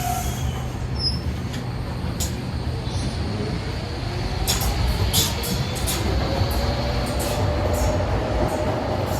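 A Docklands Light Railway train at Greenwich station, with steady low rumble and wheel squeal throughout, and sharp high metallic squeals and clicks in the second half as it moves along the rails, close and continuous.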